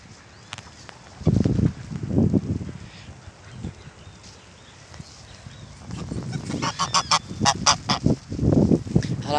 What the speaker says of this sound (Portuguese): Aí tem muito pato, ganso, marreco.